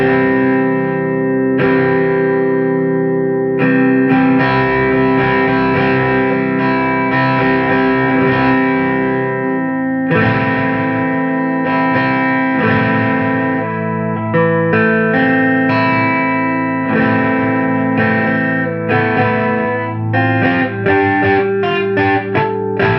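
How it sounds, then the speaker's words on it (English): A distorted vintage Ernie Ball MusicMan Silhouette Special bass played alone, thick buzzing notes and chords ringing out with sustained, gritty overdrive and a few quick picked runs near the end. "It is able to produce that distortion."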